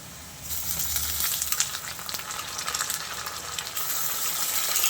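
Two spoons of ginger garlic paste hit hot oil in a pan for dhaba-style aloo bhuna, bursting into a loud, steady sizzle and crackle that keeps going throughout.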